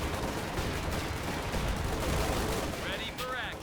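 Bazookas firing at a Panzer IV tank in the game Company of Heroes 2: dense, continuous battle noise of rumbling blasts and gunfire, loud and sustained, with a few higher whooshing sounds near the end.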